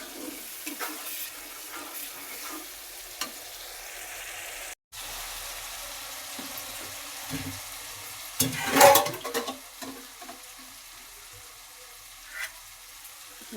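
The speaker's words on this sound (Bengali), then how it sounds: "এখানে ভালো করে মশলাটা কষিয়ে নিয়ে তারপরে মাংস দেবো" Spice paste frying in oil in a pan ahead of the meat, a low steady sizzle with occasional stirring scrapes, broken by a brief cut-out and a louder splashing, water-like burst partway through; no talking.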